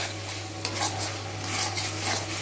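Prawns cook in masala in a pan for a Bengali coconut malai curry, a soft, continuous sizzle broken by a few gentle stirring scrapes, with no one talking.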